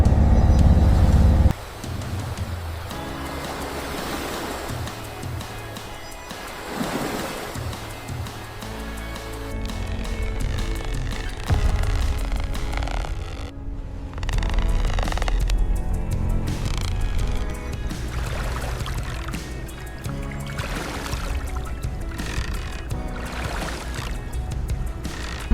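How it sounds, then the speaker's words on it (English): An offshore fishing vessel pushes through ocean swells, its engine drone steady and close beneath rushing, splashing water that surges and recedes over a long stretch. "an offshore fishing vessel cuts through the swells"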